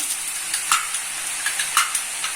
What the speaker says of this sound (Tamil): இப்போ எண்ணெய் காய்ஞ்சதுக்கப்புறம் போட்டு எடுத்துக்கலாம்.